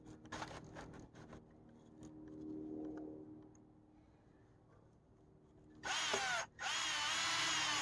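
A power drill drives screws into hardwood pallets, a few short whirring bursts up front, then a long, louder steady whine near the end as a screw bites into the dense wood.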